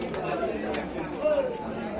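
Long-bodied black-tailed pigeons coo softly at a bird market in Magrahat, a low murmuring call set under steady nearby chatter and market noise.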